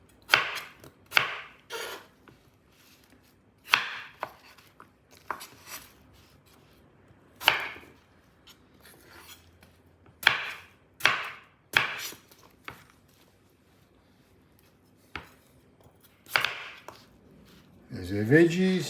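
Knife chopping potatoes into halves and quarters on a board for an Italian beef stew (spezzatino): a series of sharp, close chops in irregular clusters with short pauses, ending in a brief louder clatter.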